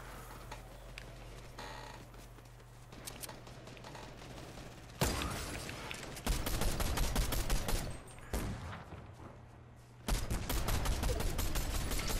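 Bursts of automatic gunfire crack through a battle royale video game, starting with scattered shots and swelling into dense, loud volleys from about five seconds on, with no speech.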